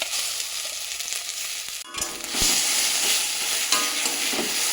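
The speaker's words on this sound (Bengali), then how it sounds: "তেলটা গরম হয়ে গেছে, তো আমরা কড়াইশুঁটিটা দিয়ে দিচ্ছি।" Green peas hit hot oil in a wok and set off a loud sizzle that swells after the drop, with a spatter of sharp crackles and no voices.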